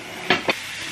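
Food frying in a pan during Swedish Easter cooking, a steady soft sizzling hiss broken by two short clattering scrapes from a utensil.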